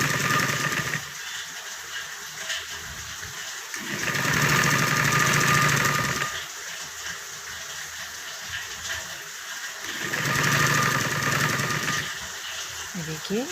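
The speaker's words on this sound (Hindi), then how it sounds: "और अब मैं इसके ऊपर बारीक सिलाई लगा रही हूँ।" A sewing machine stitches a fine seam along a fabric edge, running in three whirring bursts separated by quieter pauses, with someone talking between them.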